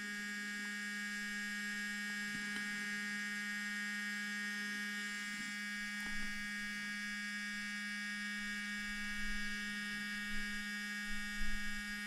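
A small electric motor in a micro RC truck runs on a 2S LiPo battery, giving a constant high-pitched whine with a steady hum beneath and faint ticks throughout.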